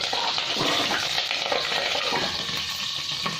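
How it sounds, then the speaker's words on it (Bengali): Cauliflower florets fry in hot oil, a loud, continuous bright sizzle with crackling and stirring close up, no voices. "এখানে আমার তেল গরম হয়ে গেছে, এবার আমি ফুলকপিগুলো ভেজে নেব"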